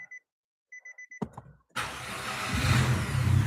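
A Nissan Altima gives several short electronic chimes, then its engine starts and settles into a steady, growing idle rumble close by, with no talking.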